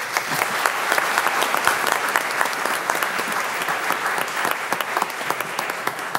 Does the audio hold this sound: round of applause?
yes